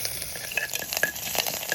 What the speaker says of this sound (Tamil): குக்கரில் தேங்காய் எண்ணெய், கிராம்பு, ஏலக்காய், பட்டை, ஸ்டார் அனீஸ், பேலியை போட்டு நல்லா வதக்கிங்கோ.